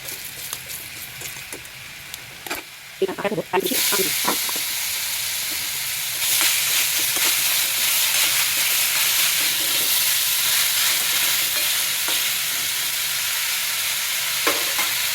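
Fennel seeds tempering in hot oil for an apple chutney and pickle, with a sudden loud hiss as they hit the oil, then a steady broadband sizzle under brief stirring clatter.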